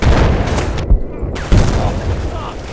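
Loud video game gunfire in a shooter, dense bursts of shots and booms packed into a few seconds, with a player's excited voice mixed in.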